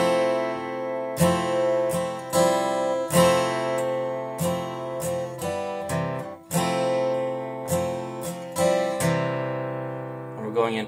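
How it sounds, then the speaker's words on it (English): Acoustic guitar chord strummed across the bottom five strings, rung out repeatedly in a series of bright, sustained strums with short gaps between them, close and clear with no talking. "So when I hit the bottom five strings together, it sounds like this."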